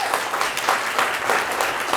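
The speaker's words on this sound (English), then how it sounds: "Let's give them another round of applause." Audience applause at a conference session on obesity in Canada, a steady, dense wash of many hands clapping close by, holding at an even level for the full two seconds with no voices over it.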